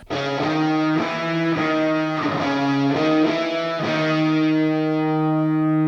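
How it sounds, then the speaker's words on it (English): Heavily distorted electric guitars play sustained chords with several chord changes, thick and buzzing, with no voices. "And then we have the distorted guitars."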